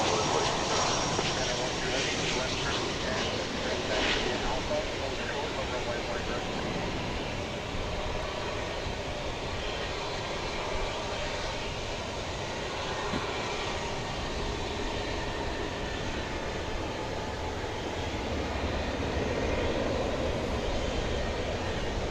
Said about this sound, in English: That was American Airlines Flight 941 from Monterey. And Airbus A319.